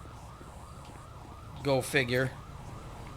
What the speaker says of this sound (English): Roll me EMS. Ambulance.